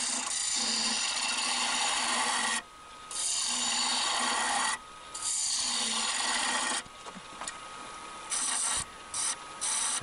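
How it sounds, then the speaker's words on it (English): Woodturning on a lathe, removing excess wood to shape an onion form: a steady close scraping and rasping of the tool on spinning wood, broken by brief pauses as the cut lifts, with no talking. "now I've got lots of excess wood still to remove and start working that onion shape."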